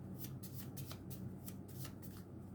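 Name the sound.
shuffling handmade cards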